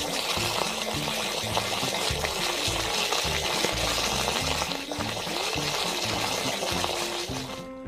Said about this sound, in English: I dunked the flask into a bucket of cold water.